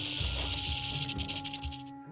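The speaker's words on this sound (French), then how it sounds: "plus la peau de sa sonnette est sèche et plus elle fait de bruit." A pygmy rattlesnake shakes its dry tail rattle, giving a steady, close, buzzing hiss that runs for about two seconds and then cuts off sharply.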